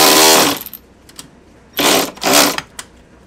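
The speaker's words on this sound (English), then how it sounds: "Anything that allows me to use power tools" Power tool whirring while a pin from an Alba clutch cover pin kit is driven into a Maverick X3 clutch cover: a loud burst at the start, then two shorter bursts a moment later.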